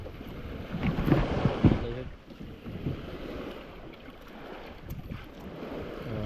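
A motorboat with two outboard motors runs at sea, its engine drone buried under heavy wind buffeting on the microphone, with brief voices early on.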